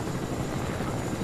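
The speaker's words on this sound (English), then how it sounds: "whose helicopter is that?" A helicopter in the video game Fortnite drones steadily and loudly throughout, with constant rotor thrum and no talking.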